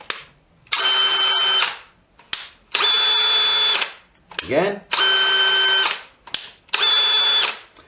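DeWalt DCD996 cordless drill boring holes with a 6mm bit, several loud bursts of high whining drilling, each about a second long, with short pauses between them and a voice speaking briefly.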